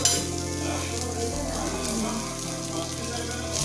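Butter sizzling in a frying pan while a bread omelette is cooked, a loud continuous close frying crackle with faint stirring and pan scrapes throughout.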